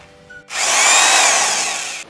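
A power drill fitted with a masonry bit starts abruptly and bores into a brick wall with a loud, close, sustained whine and grind for about one and a half seconds.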